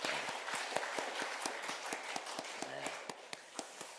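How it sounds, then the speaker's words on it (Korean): Church congregation at a Sunday service clapping for the Sharon praise team, a soft, steady wash of hands with sharper beats at a regular pace. "우리 샤론 찬양단을 위해서 박수 한번 치겠습니다"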